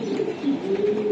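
Racing pigeons, a breeder pair of long-flying birds, coo steadily and close up, a low continuous throaty murmur running through the whole moment without pause.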